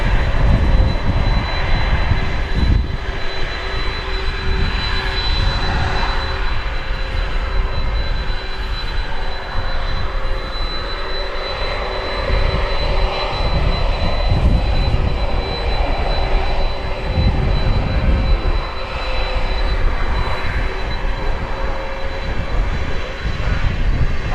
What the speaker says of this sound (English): There's the sound of an air start.